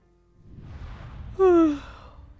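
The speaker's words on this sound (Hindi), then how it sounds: "रात भर फेरों में जगी है, उबासी आना तो लाजमी है।" Cartoon woman yawning after staying awake all night at her wedding rites: an airy breath rises into a short, loud voiced yawn tone that slides down and fades, heard alone and close.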